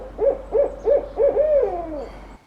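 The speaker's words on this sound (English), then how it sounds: "it's actually most commonly known as the hoot owl due to its really distinctive hooting call that they do during the nighttime" Barred owl hooting: four close, rhythmic hoots rising into a longer drawn-out descending call, loud and clear with no other sound.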